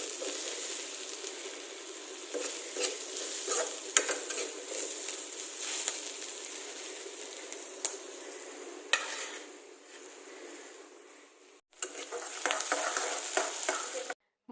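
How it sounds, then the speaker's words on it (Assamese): Local chicken frying and sizzling in a pan, with steady stirring scrapes and occasional utensil clinks running throughout, fairly close and continuous, briefly cutting out near the end. "মই লোকেল চিকেনখিনি বনাই লৈছোঁ"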